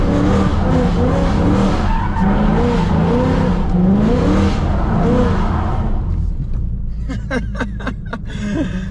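A car drifts with a drift brake, engine revving and tires squealing and skidding loudly through a slide, then the engine drops and short bursts of tire chatter follow; a voice speaks over the start.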